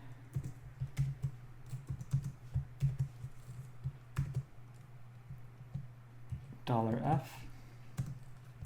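Keys clatter on a computer keyboard during a software tutorial, a close run of quick light taps and a few clicks scattered through the clip, with a low steady hum underneath and a brief voice.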